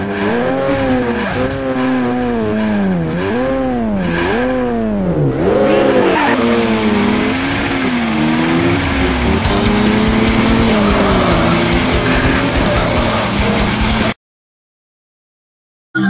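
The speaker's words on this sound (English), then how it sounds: "You're racing in the GTR today." A GTR race car in a racing video game revs hard, its engine pitch swooping up and down between gear changes, with long bursts of tire squeal as it skids through corners before cutting to silence.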